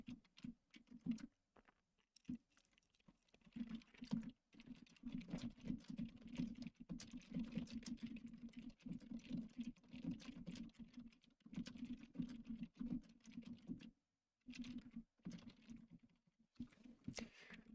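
Quiet, fast typing on a computer keyboard during live character rigging work, a near-continuous patter of soft key clicks with a few brief pauses, no talking.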